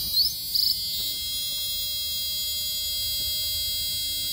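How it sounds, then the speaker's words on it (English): A Mercedes W140 S600 dashboard emits a few short, high electronic beeps in quick bursts near the start when the ignition is tried. A faint, steady hum fills the quiet cabin afterwards. "something is beeping"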